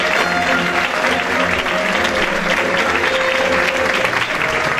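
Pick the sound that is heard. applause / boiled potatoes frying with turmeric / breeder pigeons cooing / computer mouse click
applause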